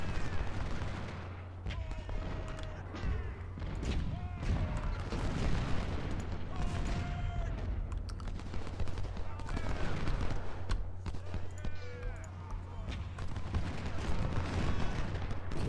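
Gunfire from a Civil War battle at Fredericksburg in a strategy game, with crackling volleys and booming shots rolling steadily under a voice, which talks throughout.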